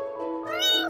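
Cartoon kittens meow in a short high, harmonic cry that rises and brightens toward the end, close and clear with no other sound around it.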